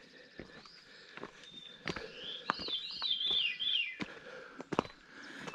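A wild bird calls outdoors near a resort, giving a rising-and-falling run of clear whistled notes in the middle of the stretch, while sharp footstep-like clicks and knocks come and go around it.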